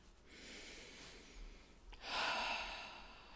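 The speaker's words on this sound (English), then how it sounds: "And then just take another deep breath." A single person takes a slow, deep breath in and lets it out, soft and close, with no other sound around it.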